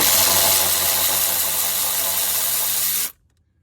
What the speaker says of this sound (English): now I'm unbolting the motor mount.